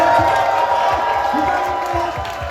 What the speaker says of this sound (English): So the crowd is giving an uproar. Come on, let's make some noise for tonight.